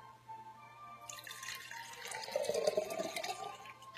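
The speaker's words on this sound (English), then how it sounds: "you support the spout of the pitcher, and then you pour." Water poured from a pitcher in a Montessori practical-life exercise, a soft trickle starting after a quiet second, then swelling into a fuller splashing pour near the end, close by with no talk.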